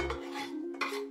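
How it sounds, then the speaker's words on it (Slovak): Onion and lard going into a pot, heard as soft metallic scraping and stirring with utensil clinks, faint and close, without voices. "Dáme cibulu a masť do hrnca."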